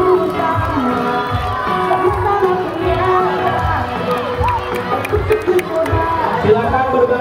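Crowd of children and adults at an elementary school orientation closing ceremony cheering and clapping for first-grade class 1A, lively shouting and chatter mixed with applause and music, loud and busy throughout.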